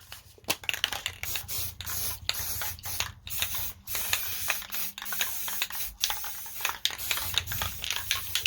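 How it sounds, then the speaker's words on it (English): Matte flat black spray primer is sprayed from an aerosol can in a run of short, sharp hissing bursts with brief gaps between them, close up and fairly steady. "So I'm going to simply just spray paint these with matte black, flat black primer."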